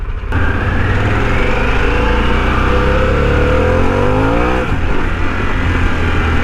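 A Harley-Davidson Pan America motorcycle engine pulls hard under acceleration on a ride, a loud, continuous close-up roar with rising pitch sweeps through the gears, a brief dip near the end, then climbing again.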